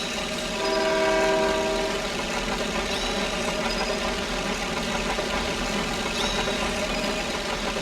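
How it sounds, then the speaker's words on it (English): A train in the Planes video game rolls by with a loud, steady mechanical rumble and clatter, and a sustained horn-like tone sounds briefly near the start before the rolling noise carries on alone. "I wonder if any of my fans are on that train."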